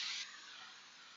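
A short, close burst of cooking spray hisses into a casserole dish. It is loud for a fraction of a second, then a softer hiss trails away.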